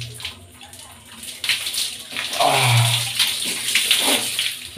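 Water is poured for a bath before sleeping. Close splashing and gurgling keeps going and swells louder in the middle with heavier pouring.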